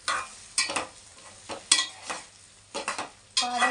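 Green chillies, mushroom and capsicum stir-fried after onions for a curry, with bursts of sizzling and several clattering scrapes of a spoon against the pan, close and fairly quiet.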